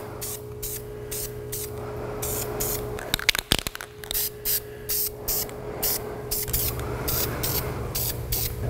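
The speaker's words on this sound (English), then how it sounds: "I'm gonna throw a coat of paint on these and let it sit while I do other stuff." Caliper paint sprayed from an aerosol can onto the brake calipers of a GMT400 truck during a front-end rebuild: a series of short, close hissing bursts with brief gaps, over a steady background hum.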